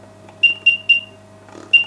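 A small buzzer in an Arduino control cabinet chirps four times in short, bright, evenly spaced beeps, the last after a short pause, over a steady low electrical hum.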